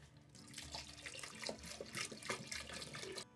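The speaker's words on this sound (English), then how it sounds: "add 1 gallon of water to your mixture" Water pours steadily into a bucket of thick blackberry pie filling being mixed for homemade wine, a close, continuous splashing gurgle with no talking.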